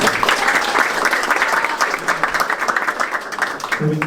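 An audience at an FC Anyang football club beef dinner gathering gives a steady round of applause with brisk clapping that continues throughout, and a voice briefly comes in at the end.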